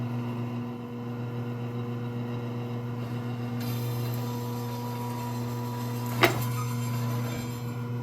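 A Vevor 10-inch meat slicer with a steady electric motor hum runs throughout as its blade cuts a 12 mm slice of meat, with a single sharp click near the end of the cut.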